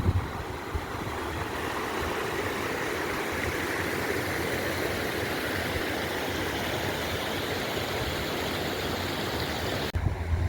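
A waterfall cascade at a scenic spot in Cuenca pours in a steady, continuous broadband rush that fills the scene at moderate distance, with a low rumble beneath and a brief shift near the end.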